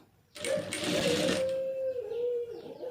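A sewing machine runs a continuous stitching burst for about two seconds while sewing a blouse lining, a close, loud whirring rattle with a steady motor whine that slows and fades as the run ends.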